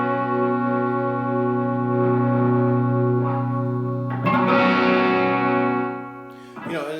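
A heavy guitar chord played through an overdrive/distortion pedal on a single-channel amp rings out thick and sustained, then is struck again with a brighter burst before fading and a final short hit.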